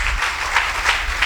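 Congregation clapping in a church service, a short burst of many hands beating together in a loose rhythm of pulses over a low background rumble.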